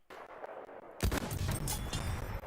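A tank fires in the video game Battlefield 1: a sudden heavy blast cuts in after a quieter stretch of distant gunfire and is followed by rumbling, crackling echoes.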